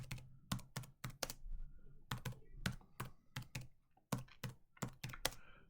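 Steady typing on a computer keyboard while writing paragraphs of text, a run of crisp close key clacks in irregular bursts with brief pauses, alone and fairly quiet.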